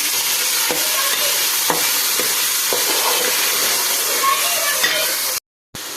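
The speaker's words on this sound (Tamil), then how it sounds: "சுண்டைக்காயை நல்லா கலர் மாறுற அளவுக்கு நல்லா வதக்கிக்கிடுங்க" Turkey berries being sautéed in a pan for a biryani, giving a steady close sizzle and frying hiss with occasional stirring clicks from a utensil, with a short dropout near the end.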